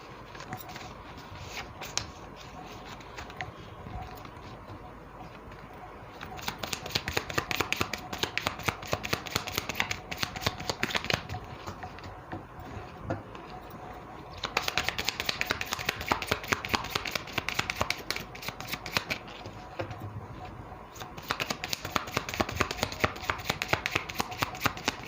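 Tarot cards riffled and shuffled by hand at close range, a long run of fast crisp flutters in dense rhythmic bursts that grow louder in stretches, with no talk over them.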